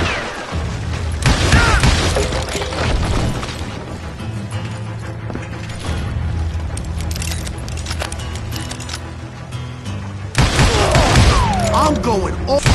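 Loud bursts of gunfire crack out in the Western shooter game Call of Juarez: Gunslinger. Rapid volleys open and close the stretch, with quieter rumbling action between them.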